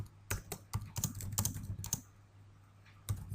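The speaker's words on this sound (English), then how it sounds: "And here I can type in a comment." Keystrokes on a computer keyboard while a comment is entered in a document, a few irregular bursts of close clicks with a pause and then a final tap over a low steady hum.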